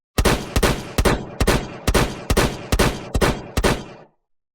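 Nine sharp, loud gunshots fired in an even, deliberate sequence, each ringing out briefly before the next, ending in silence; no talking.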